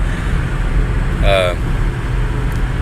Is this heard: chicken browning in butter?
no